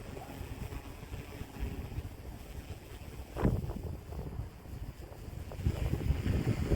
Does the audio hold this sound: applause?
no